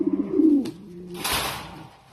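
A pair of white Pomeranian pouter pigeons coo close by, a short throaty burst of several rapid low pulses followed by a fainter breathy rustle.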